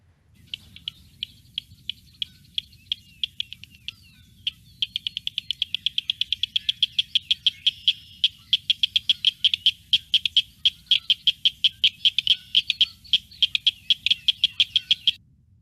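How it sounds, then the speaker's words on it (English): Cricket frogs chorus in an Ohio wetland, a steady series of sharp clicking calls that starts sparse and speeds into a dense, rapid rhythm, loud and close with no talking. "So that's our cricket frog here in Ohio."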